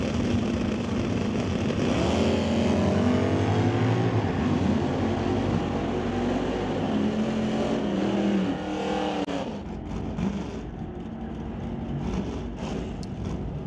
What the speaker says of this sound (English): Ron Walsh now rolls up in the Chevy Camaro.